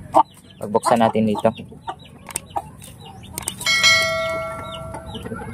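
Hens of a giant chicken breed cluck in a yard, with short choppy calls up close, mixed with a person talking and a ringing metallic tone near the end.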